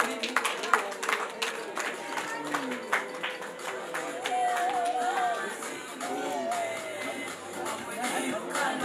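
Wedding guests at a Rwandan celebration applaud in a steady, dense patter of clapping that runs throughout, mixed with crowd murmur and voices talking over it.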